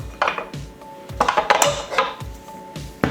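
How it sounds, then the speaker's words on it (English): A metal dough hook is pulled off a stand mixer and lifted from its bowl of soft bread dough, giving a series of close, sharp clanks and scrapes spread over a few seconds, with no talking. "So take off the dough hook."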